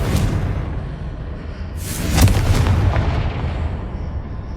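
A Confringo fire spell explodes in Hogwarts Legacy on PS5. It lands as a loud, booming blast with a sharp burst about halfway through, set over a steady low rumble of game noise.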